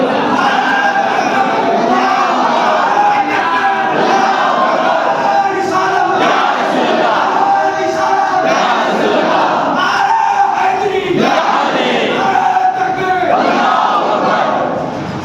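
A large crowd at an Islamic religious speech roars back in unison to a called slogan, loud sustained group chanting in repeated surging waves with many voices together.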